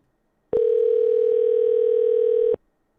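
Phone line tone heard while calling back through Google Voice: a single steady electronic tone holding for about two seconds, clear and close, with no voices.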